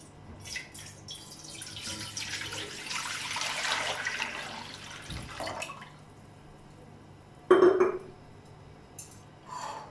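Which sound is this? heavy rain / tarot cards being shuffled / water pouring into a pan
water pouring into a pan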